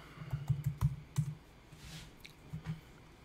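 Keyboard typing while setting a bold font in a design app: a quick run of soft, close clicks and taps in short bursts with brief pauses, fairly quiet, no voices.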